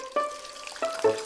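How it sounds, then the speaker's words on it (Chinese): Squid slices fry in hot oil with a brief, quiet sizzle and a couple of soft spatters in a kitchen wok. "热油煎香"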